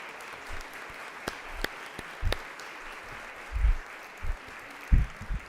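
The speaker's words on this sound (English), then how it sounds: "let's give them a round of applause for everything that they do" Applause for an honoree's family at a Teacher of the Year celebration, a steady wash of clapping from the audience with a few louder nearby claps and thumps, faint and continuous.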